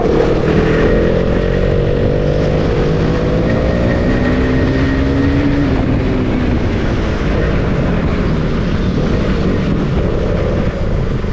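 Loud, continuous engine roar of a modified Husqvarna Svartpilen 250 motorcycle with an underbelly exhaust, steady throughout with a slight pitch shift midway.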